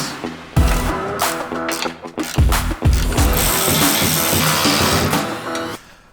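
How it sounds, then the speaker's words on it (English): Rapid ratcheting clicks from a 1/2 inch wrench with a 3/16 inch bit snugging bolts on Jeep JL Wrangler EVO Bomber rock sliders, loud and close in several bursts with short pauses. "I'm going to use my 1/2 inch wrench and 3/16 inch bit just to kind of snug these guys up a bit more"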